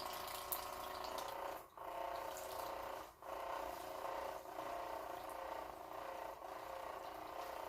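An electric gold pan runs with a steady whirring, watery churn of sluicing water, continuous at moderate level with a couple of brief dips.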